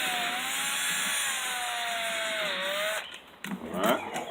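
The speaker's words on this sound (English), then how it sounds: "Drill at an angle where the string can shoot it straight across" A power drill bores an angled hole through wood for a bucket mouse trap. The motor whines steadily and slowly drops in pitch, then cuts out into brief scraping and handling noise.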